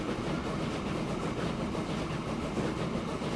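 A steam train rolls along steadily in the rail-building game Transport Fever 2, its broad, even rumble holding at a moderate level with faint clattering texture throughout and no voices.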